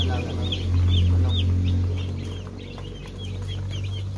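Broiler chicks peep in a rapid scatter of short, high chirps over a low steady hum, fairly close, with occasional clucking from older fowl mixed in.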